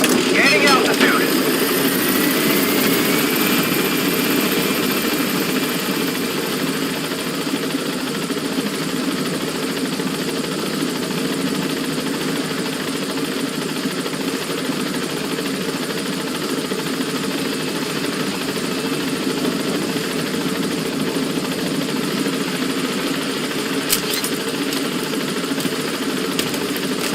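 A helicopter in Metal Gear Solid V: The Phantom Pain drones steadily as it gains altitude, a constant dense rotor and engine roar that stays loud and unchanging throughout.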